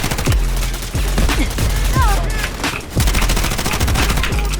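MP5 submachine gun in Delta Force hip-fired at a bot, rapid loud automatic bursts with sharp repeated cracks, brief pauses between strings of fire, and faint speech underneath.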